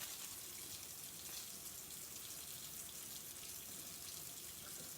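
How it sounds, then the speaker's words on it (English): Hot water runs steadily from a kitchen tap during meal prep, a continuous soft, even hiss of flowing water, faint and unbroken throughout. "My hot water is running behind me"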